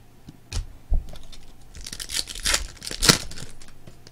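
A 2016 Bowman's Best baseball card pack being ripped open, with several short, sharp tearing and crinkling bursts of foil wrapper, close and fairly loud, separated by brief quiet gaps and no speech.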